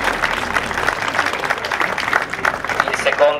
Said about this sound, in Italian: ancora un applauso a Paola.